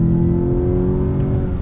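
A 2020 VW Jetta GLI with a six-speed manual pulls hard in first gear under throttle. Its engine gives a loud, steady, close-up drone with strong layered harmonics from start to end.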